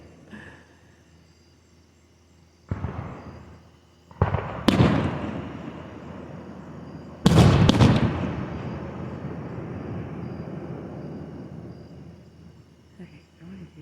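Fireworks at Roscoe burst in a few separate loud booms with crackling tails and long fading rumble, heard from a moderate distance outdoors, with occasional voices in the background.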